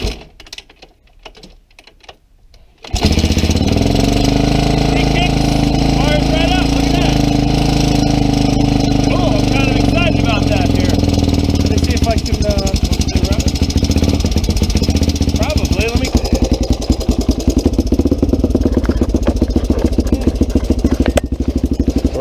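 A Honda 350X fitted with a 400EX carburetor cranks over after a quiet start, then catches and runs steadily at close range, its loud engine drone rising and wavering in pitch with no talk over it.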